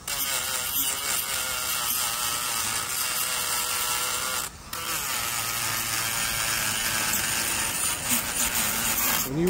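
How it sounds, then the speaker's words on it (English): A variable-speed sander, turned down low, grinds rust off a brake part with a steady high-pitched buzzing whine that runs continuously, with one brief dip partway through. "sander, belt sander, whatever you got that can get in here"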